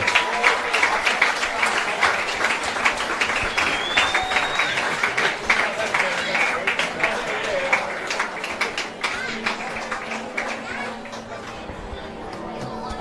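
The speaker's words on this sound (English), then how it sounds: "Big round of applause as they enter the field." A football crowd gives sustained applause as the Albion Park City FC Invitational XI and Wollongong Wolves walk onto the field. Dense, steady clapping fills the stadium, with crowd chatter and an announcer's voice mixed in.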